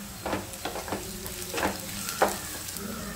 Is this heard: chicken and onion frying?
yes